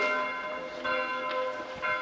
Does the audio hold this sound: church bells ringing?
yes